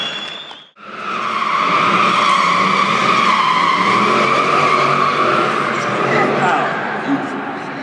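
A Mercedes-AMG SL63 with a 6.2-litre V8 skids at a live motoring show in an arena, its tyres squealing loudly and steadily for several seconds under engine roar, close and continuous.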